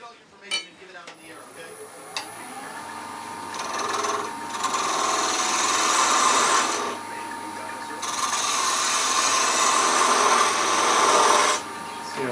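A wood lathe spins a miniature bird house, the motor's steady whine rising as a tool bites in, producing long rasping cutting passes that start, fade and return, loud and close.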